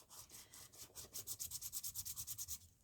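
An emery board rubbed back and forth across the surface of card, a close, soft scratching in quick regular strokes that speed up toward the end, with no talking.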